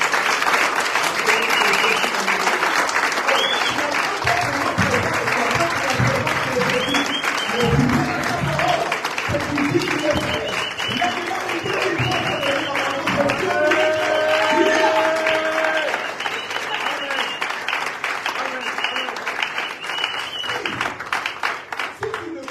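Church congregation applauding in a long, dense, sustained burst of clapping that fills the room, with scattered voices and cheers mixed in throughout.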